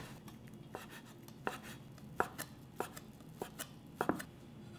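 A knife chops through thin strips of fried egg garnish (jidan) for japchae on a cutting board, giving irregular sharp taps spaced about half a second to a second apart, close and fairly quiet.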